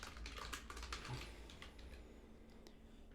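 Fingers tap quickly across a computer keyboard in a quiet room, a brisk irregular run of close, crisp keystrokes with short pauses between bursts.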